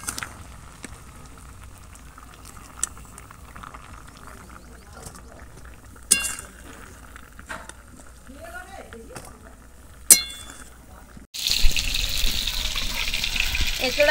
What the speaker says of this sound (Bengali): এবার আমি এটা ছেঁকে নেব সব।